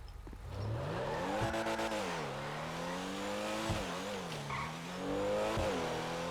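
A Porsche MD6 race car in FiveM driving around a track, its engine droning steadily and rising and falling with gear changes and throttle, close and continuous with brief tire noise.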